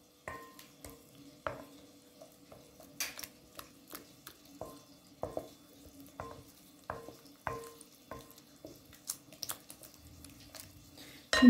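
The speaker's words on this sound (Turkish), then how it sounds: "İyicene karıştırıyorum şimdi." A spoon stirring a batter of milk and flour in a bowl, repeated scraping and clinking strokes at an irregular steady rhythm, close and fairly loud, with no voices.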